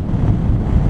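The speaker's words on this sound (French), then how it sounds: "au niveau du vent, le bruit du vent, il est pareil dans les deux casques" Steady wind rush inside a motorcycle helmet at speed, a dense low roar that stays constant and loud throughout the short stretch with no voices.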